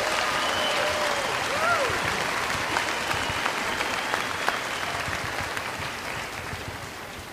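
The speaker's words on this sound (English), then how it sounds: "giving a round of applause for those graduating from the College of Education" Sustained audience applause fills a fall commencement ceremony as College of Education graduates are honored, a dense, steady clapping crowd that holds loud throughout and tapers only slightly at the end.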